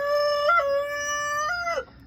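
A rooster in a backyard coop lets out a single loud, close crow, clear and tonal with a rising middle section and a dropping tail, and nothing else sounds around it.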